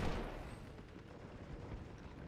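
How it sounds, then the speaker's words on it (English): 81mm mortar fire in the WWII strategy game Steel Division: Normandy 44, a dull distant rumble of artillery with a heavier thud at the start, fading into steady low battlefield noise. "81mm mortar now coming in to help out"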